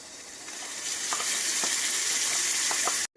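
Onions and a spice mix fry in a pan with a loud, steady sizzle that holds through the clip, broken by a few soft stirring knocks, then cuts off abruptly at the end.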